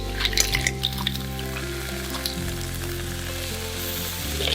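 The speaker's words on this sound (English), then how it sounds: "Stir fry until it changes color." Batik clams and onion sizzle and fry steadily in a hot pan, a continuous loud crackling hiss with occasional clicks of shells and utensil stirring over a low hum.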